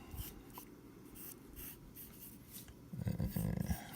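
A pencil draws on paper in a quiet room, with short soft scratching strokes throughout and a burst of quicker, louder scribbling near the end.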